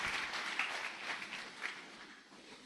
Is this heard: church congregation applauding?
yes